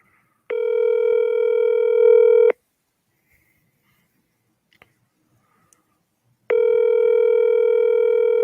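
A speakerphone plays a telephone ringback tone in two steady two-second bursts separated by several seconds of near silence with a few faint clicks, fairly loud and close.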